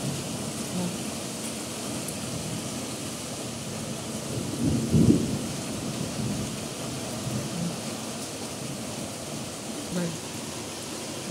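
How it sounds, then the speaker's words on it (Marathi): Heavy monsoon rain pours in a constant wash of hiss while a low thunder rumble swells in the middle and fades, with a softer rumble later on. "हे वाटतं कसा ढगाचा कडकडाट चाललेला आहे"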